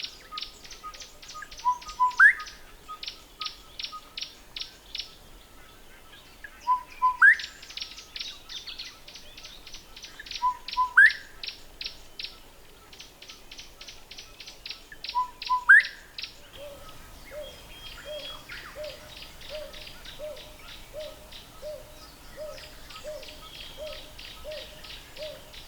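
Wild birds sing in the iSimangaliso wetlands of South Africa on a morning outing: repeated bursts of rapid trilling notes and rising whistled calls, followed by a steady series of short, regular hoot-like calls, over a quiet background.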